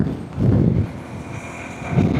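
Strong headwind buffets a microphone while riding a motorbike toward Danushkodi, producing loud gusty low rumbles that swell and ease in waves.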